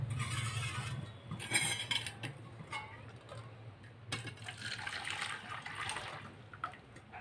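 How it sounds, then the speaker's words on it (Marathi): Water is poured from one vessel into another while making puran poli, a faint trickling and splashing with brief pauses, close by and quiet. "आता हे पाणी मी एका भांड्यामध्ये काढून घेते"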